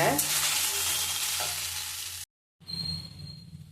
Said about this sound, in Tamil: நெக்ஸ்ட் ஒரு பேனில் கொஞ்சமாக ஆயில் விட்டு வெண்டைக்காய் வந்து அதில் ஆட் பண்ணுறேன்.